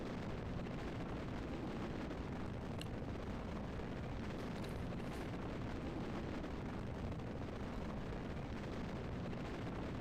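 Rocket launch in Kerbal Space Program, a continuous loud roaring rumble of engine thrust filling the whole stretch, steady and dense with no break and no talking.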